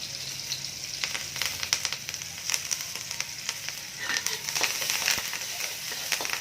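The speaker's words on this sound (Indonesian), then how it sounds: "Tumis sehingga wangi ya." Chopped onion, chili and kaffir lime leaves sautéing for a buttermilk oyster mushroom dish, a quiet steady sizzle broken by frequent crisp crackles and spatula scrapes.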